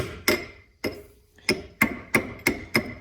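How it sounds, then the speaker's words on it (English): Seven sharp metallic blows of a hammer striking a chisel during a 2012 Lexus ES350 front wheel bearing replacement, close and loud, falling at an uneven but steady pace with short ringing tails. "get a nice chisel, stick it in there like that, and smack it with a hammer"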